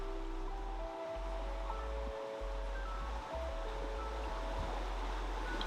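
Steady river water flowing along a clear stream, a continuous broadband rush with no voices, constant and fairly loud throughout.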